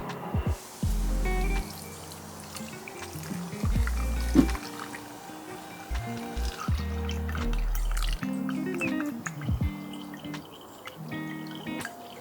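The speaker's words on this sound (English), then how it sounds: "make sure that the filtering setup is not going to fall over when I pour in the wax" Thick melted beeswax pours through a filter and drips steadily, with irregular glugging splashes and a low hum in the background.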